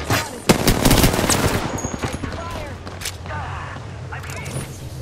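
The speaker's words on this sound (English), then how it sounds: "Opening fire." Video game gunfire in a team shooter, with rapid automatic bursts and sharp shots up close, loud at first and then easing, while voices call out over the fighting.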